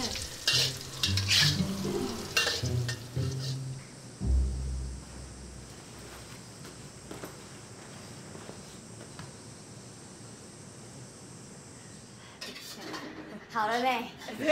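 Food being stir-fried in a pan: a steady sizzle with occasional scraping and clattering, heard after and between people talking near the start and end.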